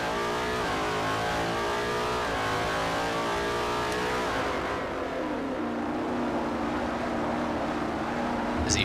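A Formula-style race car engine in the Forza racing game whines at high revs, then eases off while the car feathers the throttle through a corner at Motegi, loud and continuous with no talk.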